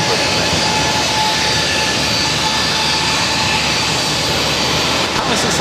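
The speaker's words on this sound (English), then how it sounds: "That was JetBlue 2469 taking off to Fort Lauderdale on the A320" JetBlue Airbus A320 jet taking off at Boston airport, an intense sustained engine roar with a faint whine, loud and close throughout.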